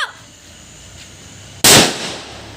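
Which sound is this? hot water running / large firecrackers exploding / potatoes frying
large firecrackers exploding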